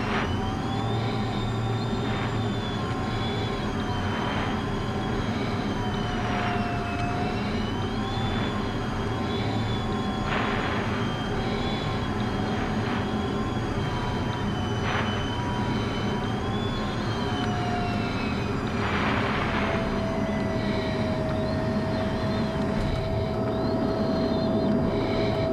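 An F-16 Viper demonstration jet coming in to land at an airshow, a sustained distant jet whine and rumble with shifting tonal pitch, steady and fairly faint throughout, no talking.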